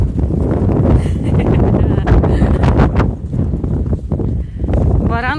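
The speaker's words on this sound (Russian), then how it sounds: "Ветер такой, как прям метелью начинается." Strong gusty wind, as a snowstorm begins on a goat farm, roars and buffets the microphone in heavy rumbling bursts, with a voice speaking faintly underneath.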